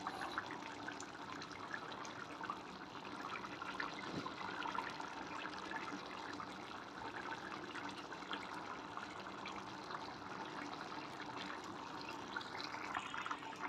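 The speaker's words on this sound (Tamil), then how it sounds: "மண் சட்டின்றனால கொதிச்சுக்கிட்டே இருக்குது பாருங்கள்." Potato masala for puri simmering in a clay pot just after the stove is switched off, a steady close bubbling and fizzing that runs unbroken, with no talking.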